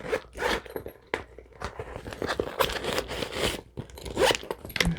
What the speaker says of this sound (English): There's a zipper on the back here.